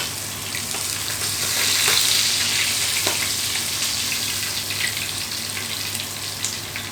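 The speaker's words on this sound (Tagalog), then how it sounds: "Okay na itong prito natin, galunggong." Galunggong fish frying in a pan, a loud, steady close-up sizzle that swells slightly and continues throughout without talking.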